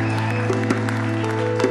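A church congregation applauding during worship, steady crowd clapping layered over sustained music tones, even and moderately loud throughout.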